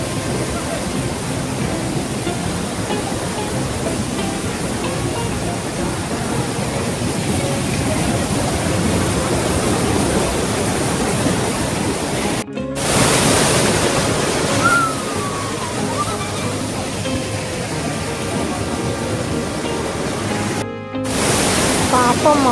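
A forest stream rushes steadily over rocks in the woods, making a constant broad wash of flowing water that stays loud throughout, broken by two brief cuts, with voices faintly audible beneath it.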